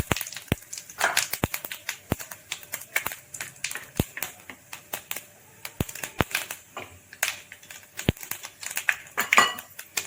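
Mustard seeds, cumin and asafoetida crackle in hot oil for a tempering, a scatter of sharp, irregular pops and snaps over a faint sizzle, close and fairly quiet.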